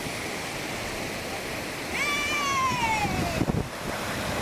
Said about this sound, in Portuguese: Estamos aqui na Cachoeira da Ema.